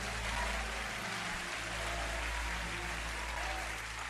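Congregation in a church applauding while taking their seats, a steady moderate patter of clapping over a low hum, with some murmuring voices mixed in.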